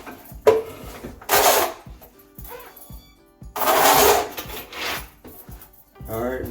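Scraping and rasping as a drain snake machine's cable is pulled out for unclogging a toilet, in two loud rough bursts separated by lighter clicks and handling noises, close by.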